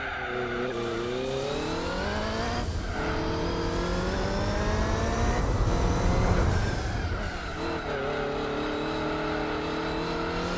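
A race car in Gran Turismo 4 screams at high revs, its engine pitch climbing through gears with brief drops at shifts, loud and close, with tire noise as it takes a corner hard.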